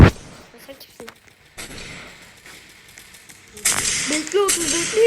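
Gunfire from a newly acquired weapon in a zombie attack video game: a sharp shot at the start, then a dense burst of rapid game effects and shots toward the end over steady background noise.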